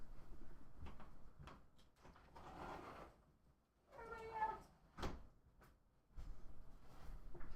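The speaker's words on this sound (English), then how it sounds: "Let me open the door for this kitty cat." A door being opened indoors to let a cat in: a few soft knocks and handling clunks, then a brief squeaky, tonal sound partway through, all fairly quiet and close, with no talking.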